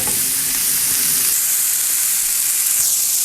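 Beef browns in a hot pan before going into a slow cooker for stew, giving a steady, loud, close sizzle and hiss that runs unbroken and is heard alone.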